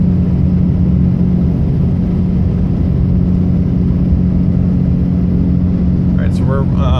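A third-generation 5.9 Cummins diesel truck towing up a long grade on Tehachapi Pass in fourth gear near 70 mph, its steady loud drone and road rumble continuing unbroken throughout.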